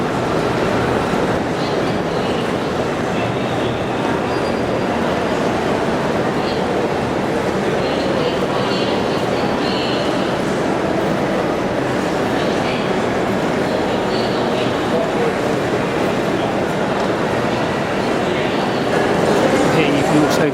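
Busy concourse ambience at London Waterloo railway station, with a steady wash of crowd murmur, echoing voices and train rumble running continuously and fairly loud throughout, with indistinct talk mixed in.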